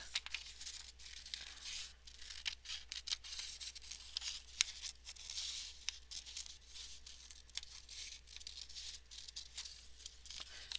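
Scissors snip and paper rustles and tears while a paper shape is cut out for an organic-shape collage, a steady run of soft, close crisp snips and crinkles with no talking.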